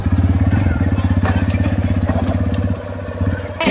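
A motorcycle engine putting along in a steady, rapid low thump, close and loud, easing slightly toward the end, with faint voices underneath.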